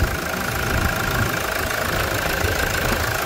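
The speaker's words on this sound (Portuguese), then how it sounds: "olha o barulho do motor, tá até bonitão" A Toyota Hilux single-cab pickup engine idles steadily with a low rumbling knock, continuous and fairly close, without any talking.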